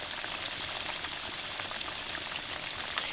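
Pork chops frying in oil in a pan, a steady close crackling sizzle with dense spitting pops and no voices.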